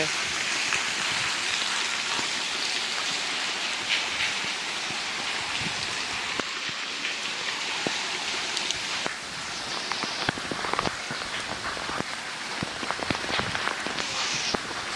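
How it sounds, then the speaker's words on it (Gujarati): A downpour keeps drumming without pause, a thick, even roar of rain striking surfaces nearby, mixed with a running-water sound and occasional louder drips. "પૂરેપૂરો વિડીયો ચાલુ વરસાદે ઉતારેલો હતો"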